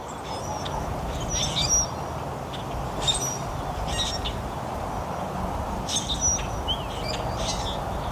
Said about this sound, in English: So my birds want to come eat.